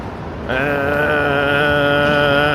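A human voice imitates a mechanical rumble on a Manhattan street walk. It is a steady, buzzy droning hum held for about two seconds, close to the microphone.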